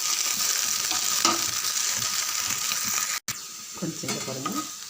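Okra sautéing in a pan, a continuous close sizzle with intermittent spatula stirring and a brief dropout near the end, no talking.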